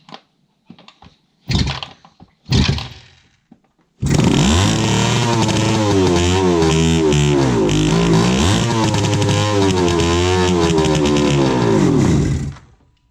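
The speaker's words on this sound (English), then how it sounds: "I've been having to manually kick this bike over" A 1976 Suzuki GT750 motorcycle is kicked over a few times with short sputters, then catches and runs loudly at close range with a steady, slightly wavering engine drone for about eight seconds before cutting off.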